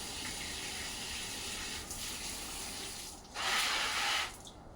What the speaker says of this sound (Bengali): বিকালবেলা সে সব গাছে পানি দিয়ে দিচ্ছে।